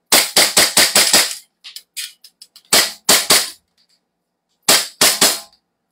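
Gas-powered airsoft pistol fired in sharp, close cracks: a quick string of five, scattered lighter clicks, then pairs of shots with silent gaps between.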